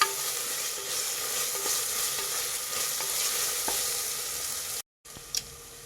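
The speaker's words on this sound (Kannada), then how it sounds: "ಈಗ ಶುಂಠಿ ಬೆಳ್ಳುಳ್ಳಿ ಪೇಸ್ಟು ಚೆನ್ನಾಗಿ ಫ್ರೈ ಆಗಬೇಕು" Ginger garlic paste sizzles steadily in a hot pan while a spoon stirs it, with continuous frying crackle and occasional scraping taps, close and fairly loud, breaking off briefly near the end.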